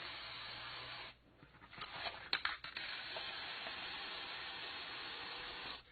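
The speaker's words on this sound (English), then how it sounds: "I'll just be spraying on it" Aerosol spray paint hisses onto poster board in long bursts close to the microphone, with a brief pause and a few clicks before the spraying resumes steadily.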